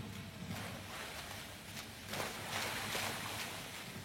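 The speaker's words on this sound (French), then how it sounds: "Leurs pieds nus frappent l'eau débordant du bassin rempli à ras-bord." Bare feet splashing and slapping through water spilling over a brim-full pool as people run in khaki raincoats, a continuous wash of splashes under a soft ambient hiss, building slightly toward the end.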